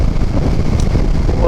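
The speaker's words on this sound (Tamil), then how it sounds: "இந்த 2 மலைக்கு நடுவில் கேப் இருக்கிறதுனால இந்த காற்று பயங்கரமாக" Strong wind roaring through a gap between two mountains along the Andipatti road, a steady loud rush buffeting the microphone with continuous low rumble and no pauses.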